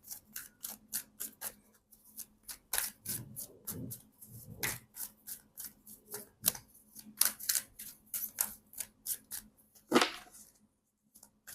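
Osho Zen tarot cards shuffled by hand in a steady run of crisp riffling flicks and soft rubbing strokes, close and fairly quiet, with no talk over them.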